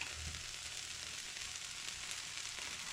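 Butter sizzles as it melts in a paella pan, a steady, soft hiss that continues without a break, fairly quiet and close, with no voices over it.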